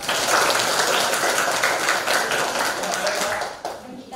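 An audience at a public speaking session breaks into dense, continuous applause for Anggita, a loud wash of many hands clapping that holds for several seconds before thinning slightly at the end.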